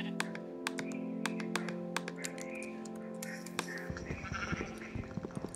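Sheep bleating in Minecraft, a few game bleats mixed with rapid keyboard typing and clicks, fairly quiet overall with a busier clatter of keys toward the end.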